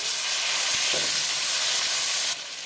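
Chopped tomatoes dropped into hot oil with potatoes and bay leaf for a Bengali fish curry give a loud, steady frying hiss that cuts off abruptly near the end; no talking.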